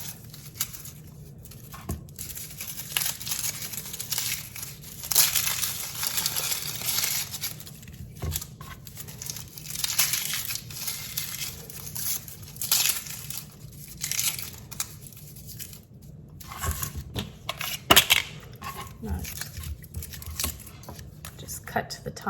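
Papery skins being peeled off by hand before roasting, heard up close as intermittent bursts of crinkling, crackling and soft tearing, with quieter pauses between handfuls.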